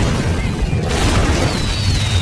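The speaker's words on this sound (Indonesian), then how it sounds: "Mendengar ledakan tersebut" Room blown apart by an explosion in an action film, heard as a loud, sustained roaring rumble with dense debris noise throughout.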